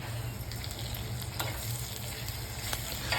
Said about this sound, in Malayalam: ഒരു സവോള ചെറുതായി കട്ട് ചെയ്തെങ്കിലും ചേർത്ത് വഴറ്റി കൊടുക്കുക